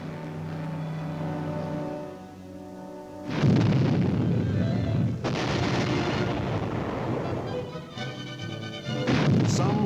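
Little John, a lightweight, highly mobile Army tactical missile, roars off its launcher in a series of loud, broadband blasts and rushing bursts, with a steady hum at first and repeated heavy booms close by, no talking.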